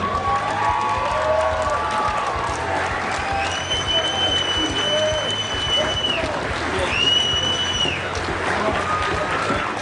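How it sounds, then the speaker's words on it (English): A large crowd at a Team USA versus Team Poland event applauds and cheers the coaches, loud and continuous, while voices carry over the top. "all of the coaches from Team USA and Team Poland, give them a nice round of applause."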